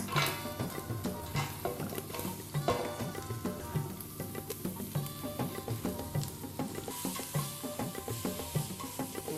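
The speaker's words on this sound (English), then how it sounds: "in goes my garlic and the ginger and everything else" Garlic and ginger sizzling in a hot pan with repeated scraping and stirring of a utensil, steady frying crackle throughout, no voices.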